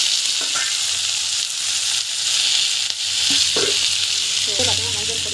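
Tomatoes sauté with turmeric and chili powder in a pan for sambar, giving a loud, steady sizzle and frying hiss throughout, broken by a few brief stirring scrapes and clinks, with no talk.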